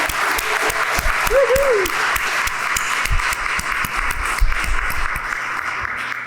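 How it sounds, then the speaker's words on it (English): A full room applauds steadily at a college of medicine faculty recognition ceremony, with dense clapping running throughout and one cheer rising briefly above it. "Let's give a last round of applause."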